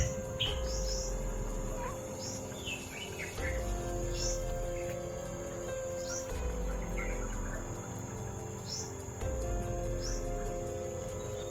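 Birds chirp and call intermittently over a constant chorus of crickets in an outdoor setting, fairly distant.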